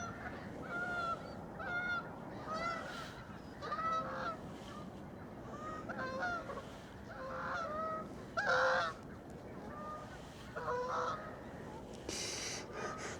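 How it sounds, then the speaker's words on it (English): Geese honk repeatedly on a morning outdoors, a string of loud nasal calls spaced a second or two apart over a constant low background rumble. "The geese are very active this morning."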